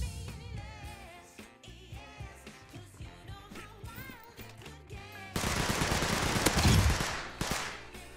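A fast-firing submachine gun in a video game rattles off in rapid bursts over game music, growing denser and louder toward the end, with no voices.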